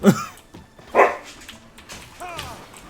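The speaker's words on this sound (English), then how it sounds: "And the dogs are freaking out." Dogs bark and yelp in short agitated bursts, with one loud bark standing out, mixed with game sound effects and background chatter.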